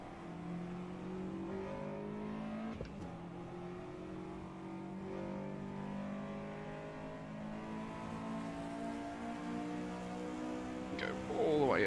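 A Honda race car in the sim racing game ACEvo drones along steadily, its engine note holding through a long pull up the rev range with a brief sharp knock near the start and rising at the end.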